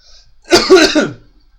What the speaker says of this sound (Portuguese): Tossi aqui primeiro, porque eu tô um pouco gripado